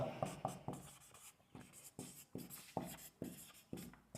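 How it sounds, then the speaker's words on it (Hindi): Handwriting with a pen or marker during a goat-farming training class, heard as close rhythmic scratching strokes of about two per second, each one rising and fading. "लिख देता हूं"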